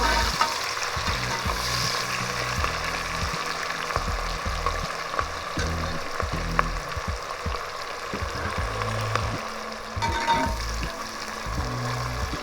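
Onions for vegetable pulao fry steadily in hot oil, a close, continuous sizzle with occasional scraping stir strokes, heard alone without voices.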